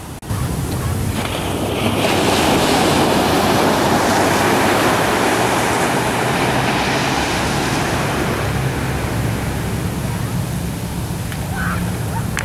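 Ocean waves at Santa Monica Beach on a sunny afternoon, a steady roar of breaking surf washing in continuously, heavily mixed with strong wind buffeting the microphone.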